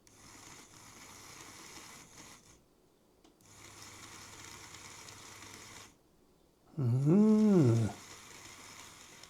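Small electric motor of an Oxford Rail Dean Goods model locomotive with a shorting fault running in short stretches, a faint buzzing whir that cuts out between runs, then a louder warbling whine near the end.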